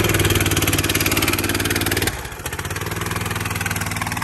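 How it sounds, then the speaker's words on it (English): A Honda GX390 13-horsepower engine on a homemade go-kart runs steadily and loudly nearby, its throttle dropping briefly partway through before settling back into a rough, even idle. "A high dollar Honda motor."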